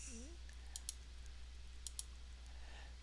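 Two faint, quick computer mouse clicks in a quiet room over low steady hum, while navigating accounting software.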